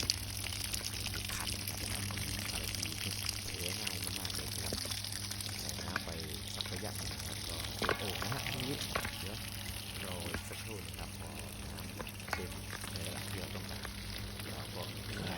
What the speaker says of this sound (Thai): ใส่น้ำไปเรื่อยๆนะครับใส่น้ำไปเรื่อย ๆ เต็มที่นะครับ